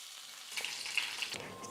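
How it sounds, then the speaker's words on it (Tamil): Urad dal and red chili roast in a pan for a short moment, giving a quiet, thin sizzle with a few soft crackles. "உளுத்தம்பருப்பு நல்லா வறுபட்டு வந்துருச்சு"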